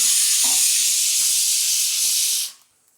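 Coriander seeds frying in a hot pan, a loud close steady hissing sizzle with faint crackles that cuts off abruptly near the end.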